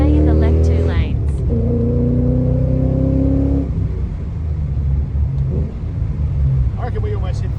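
Holden VT Clubsport 5.0L V8 accelerating hard from the passenger seat, engine rising in pitch through a gear, then a lower steady rumble under a quieter tone, with a voice talking over it.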